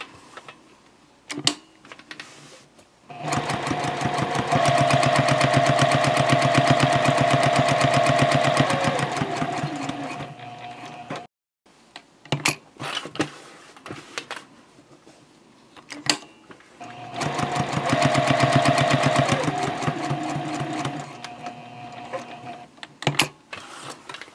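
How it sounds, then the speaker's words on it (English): Sewing machine stitching around a zipper pouch in two long, steady bursts of rapid needle hammering, separated by a pause filled with scattered handling clicks, close and clear with no talking. "And now I'll sew around one more time"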